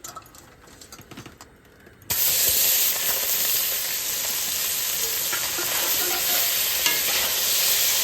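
Small mola fish fry in hot oil, a quiet crackle at first that jumps to a loud, continuous sizzling hiss as the fish go in, close up and steady with no talk.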